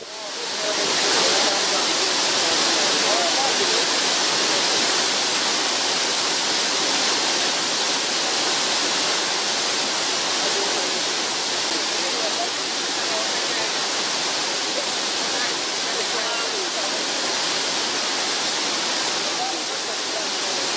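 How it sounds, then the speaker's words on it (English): Water from a spring cascades down a gentle waterfall, a broad, continuous roaring rush that stays loud and even for the full stretch without pauses. "Water from the Man Spring cascades and forms a gentle but beautiful waterfall."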